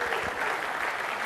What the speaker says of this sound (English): Round of applause for everyone who's excited.